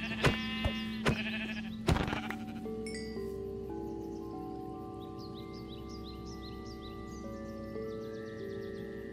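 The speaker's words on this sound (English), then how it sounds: "There's goats. There's actual goats." Goats bleating in Minecraft on a modded island, several short wavering bleats in the background alongside steady game tones, after a few sharp clicks at the start; no voices.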